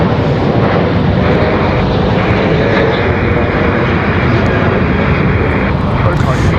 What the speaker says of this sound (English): So here we go, Sun Country getting out of here.